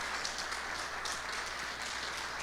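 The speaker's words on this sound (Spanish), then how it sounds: "Dele con fuerza, palmas" A church congregation claps in unison, a dense wash of rhythmic hand claps heard at a distance. The clapping stays steady throughout with no voices standing out.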